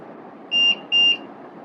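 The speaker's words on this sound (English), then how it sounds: "if this alarm goes on, if somebody tries to scale your fence, and this happens, it will also, the alarm goes off also" An electric fence energizer's security intrusion alarm sounds two short, shrill, steady beeps in quick succession, loud and close over a low background hum.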